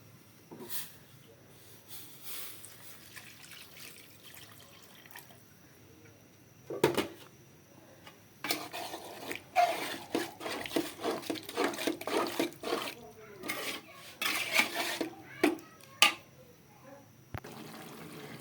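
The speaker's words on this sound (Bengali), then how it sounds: "এখন আমি এর মধ্যে গরম পানিটা দিয়ে দেবো" Hot water is poured into a pot of beef tripe curry, a gurgling, hissing splash that swells and sputters for several seconds after a quiet start.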